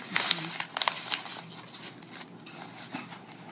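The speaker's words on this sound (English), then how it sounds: "I'm going to take this paper and I'm going to crumple it in on itself so the edges are in the middle" Paper crumpled by hand, folded in on itself for a ceramic mask project, makes close crinkling and rustling bursts that are loudest at first and then settle into softer scrunching.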